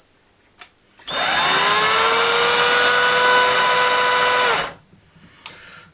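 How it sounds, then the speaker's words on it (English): An electric drill whirs up abruptly to a high, steady whine, holds for a few seconds, then spins down and stops. "even though this drill has got a speed control on it"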